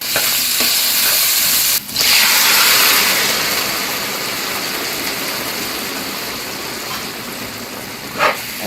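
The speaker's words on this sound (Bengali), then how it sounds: "লাউ তরকারিটা একটু তেলে গরম করে নিই।" Bottle gourd curry sizzles loudly in hot oil in a pan. A steady frying hiss carries on throughout, with a few clanks of stirring near the start and the end.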